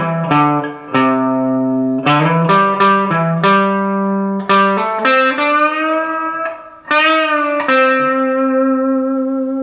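A distorted electric guitar plays a solo riff, with single notes picked, bent upward and released in a loud, sustained melodic line.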